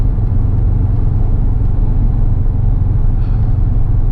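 A loud, steady low Corvette engine rumble fills the cabin while the car drives along, with no other distinct sounds.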